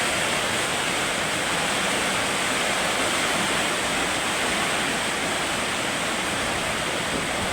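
Heavy rain pours down in Dasmariñas, Cavite, a dense, steady roaring hiss with no break, loud and continuous throughout.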